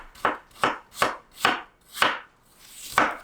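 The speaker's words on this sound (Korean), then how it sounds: "양파를 먹기 좋은 크기로 잘라요" A knife chops an onion into bite-size pieces on a cutting board, six sharp, evenly spaced strokes about half a second apart, close and clear with no talking.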